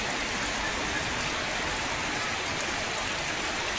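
Heavy monsoon-season rain pours down at Chaul near Alibag, a dense, unbroken hiss of drops on surfaces, loud and uniform with no distinct thunderclap standing out.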